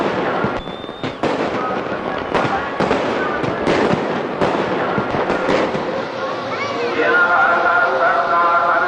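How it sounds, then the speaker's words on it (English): Holiday fireworks at the Golden Temple crackle and pop in rapid, overlapping bursts, with sharp bangs and a whistling streak, echoing outdoors with a steady crowd murmur behind. "the sound of holiday fireworks at the Golden Temple"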